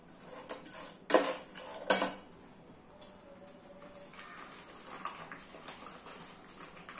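Pieces of jaggery dropped into a vessel while making purnam burelu give a few sharp clinks near 1 and 2 seconds, then a softer knock, over a quiet kitchen background with no talking.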